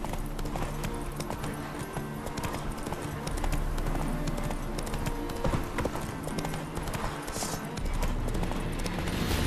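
Steady clip-clop of horse hooves on a hard surface in the video game The Witcher 3: Hearts of Stone, a continuous trotting rhythm over low ambient noise.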